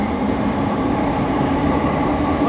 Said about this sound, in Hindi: एक्सेलरेशन हो रहा भाई डीएमयू ट्रेन का।